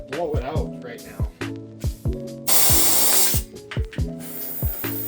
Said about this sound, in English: I actually might just get the compressor to just blow it out right now.